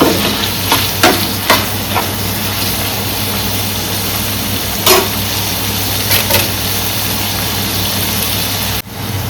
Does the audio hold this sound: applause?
no